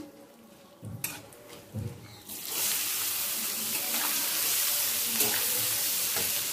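Chopped onion hits hot oil seasoned with dry chilli, bay leaf and garam masala for a plain tarka, bursting into a loud, steady sizzle after a couple of soft knocks and staying dense and close to the end.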